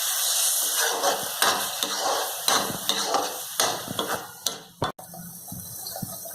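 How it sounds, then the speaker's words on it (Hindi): Tomato puree frying and being stirred in ghee for pav bhaji, a steady close sizzle broken by repeated scraping stir strokes, with no voices. "अब हम टमाटर को तब तक भूनेंगे जब तक वो घी पे आ जाए, घी छोड़ने लग जाए।"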